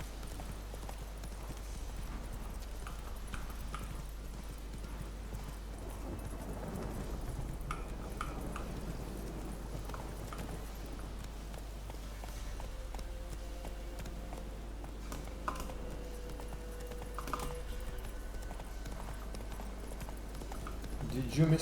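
Roach the horse galloping in The Witcher 3, steady rhythmic hoofbeats clopping close by over a constant low rumble for the whole stretch.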